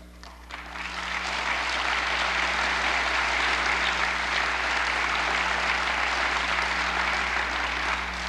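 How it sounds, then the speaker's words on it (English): Audience applause rising after a brief moment and holding as a steady, dense wash of clapping for several seconds, continuous and fairly loud, with a low constant hum beneath. "Now, you applaud at that"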